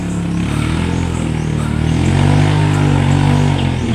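Several motorcycles revving and running close by, a loud steady engine roar with rising throttle swells and some mechanical clatter, no talk over it.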